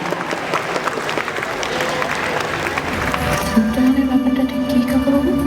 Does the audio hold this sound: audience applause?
yes